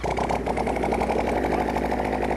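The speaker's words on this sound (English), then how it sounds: "All right, drivers, start your engines." Offroad scrapheap-built vehicles run their engines together, giving a loud, steady, throbbing mechanical drone with a fast pulsing beat.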